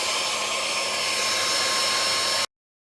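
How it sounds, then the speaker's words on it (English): A hair dryer on its cool setting blows with a loud, steady whirring roar close by, running evenly before cutting off abruptly. "you're going to take the hairdryer and put it onto cool"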